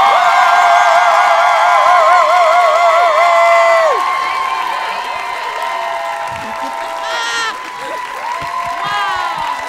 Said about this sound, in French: Oui, applaudissez, applaudissez, applaudissez pour Alexandre Bisaillon et Stéphane Fallu!